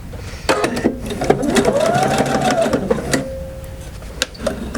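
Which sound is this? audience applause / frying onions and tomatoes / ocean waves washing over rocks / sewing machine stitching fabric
sewing machine stitching fabric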